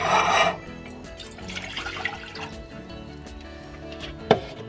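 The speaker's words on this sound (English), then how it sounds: "Going to add the water to the saucepan" Water pours briefly into a saucepan at the start, then gives way to quiet clinks, drips and small kitchen knocks.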